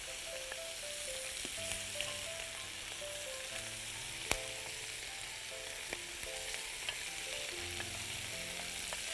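Chicken pieces fry in a hot pan of oil, a steady broadband sizzle running throughout with occasional sharp pops and crackles, close and even, with no talking.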